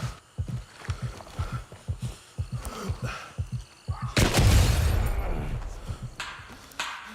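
A grenade explodes in a shooter video game, a loud, sustained broadband blast roaring for about two seconds, preceded by a run of rhythmic low thuds.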